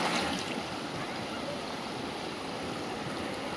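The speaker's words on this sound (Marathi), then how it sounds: "हे मार्लेश्वरच्या धबधब्यातूनच पाणी येत आहे" Water from the Marleshwar waterfall rushes down a stream beside a roadside hotel, a continuous broadband wash that stays loud and steady throughout, with faint voices in the background.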